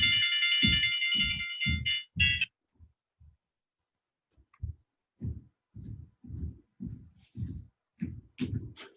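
A mobile phone rings with a bright, warbling electronic tone for about two seconds and then stops, followed by a run of soft, rhythmic low thumps.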